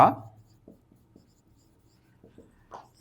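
Marker or chalk strokes on a board during a maths lesson on sets, a loud first stroke followed by several short scratchy taps and squeaks spaced irregularly across a few seconds, close and fairly clear, with no speech over them.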